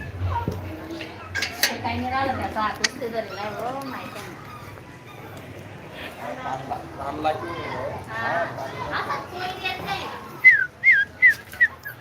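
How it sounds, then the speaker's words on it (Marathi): Puppies whimper and yelp near and far while someone talks over them, ending in several short sharp squeals. "आता मी तुम्हाला पिल्ले दाखवतो"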